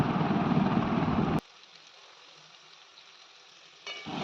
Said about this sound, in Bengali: ছোট ছোট করে কেটে রাখা আলুটাকে দিয়ে দেবো, দিয়ে এটাকে ভালো করে ভেজে নেবো।